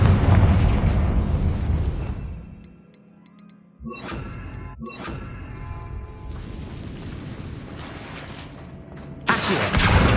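Confringo blasting spells explode in the Hogwarts Legacy video game: a loud burst fades out, then two sharp cracking blasts follow close together, with rumbling debris and another loud hit at the end.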